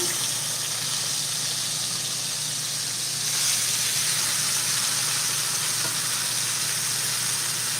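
Steaks searing in a hot pan give off a loud, steady sizzle and hiss that swells a little partway through and continues evenly, with no talking.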